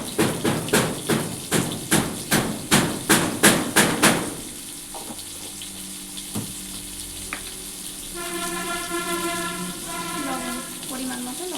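A workman hammers inside a house, about ten loud, evenly spaced blows over four seconds, close by. The blows then stop and a softer sizzle of fish curry with potato and pointed gourd frying in a pan carries on.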